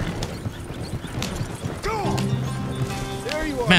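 Horses gallop in the open world of Red Dead Redemption 2, a steady clip-clop of hooves running beneath game music and sound effects, with someone talking over it.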